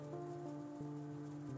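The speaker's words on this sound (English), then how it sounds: "Your wetness is probably because of the rain" Rain falls steadily in the video game Gloom And Doom as a soft, even patter over a low sustained hum, with no talking.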